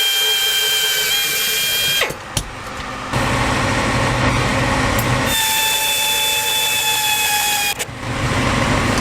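A power tool whirs steadily while tightening a part on a 1966 Porsche 912, with loud continuous mechanical drone interrupted by a couple of short pauses and pitch changes.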